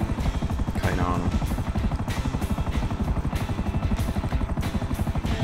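A helicopter in GTA 5 Online, its rotor thumping in a fast, steady, loud pulse throughout, with people talking over it.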